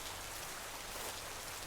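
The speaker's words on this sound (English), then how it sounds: "The rain fell heavier now" Heavy rain pours in an unbroken, dense hiss, a steady wash of falling water with no pauses or voices.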